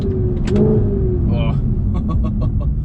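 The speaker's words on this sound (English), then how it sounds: "Oh, just listen to those downshifts." A first-generation Audi R8 with a dual-clutch transmission downshifts, giving a deep engine rumble with quick rising blips and crackles, close and fairly loud, with a voice briefly over the top.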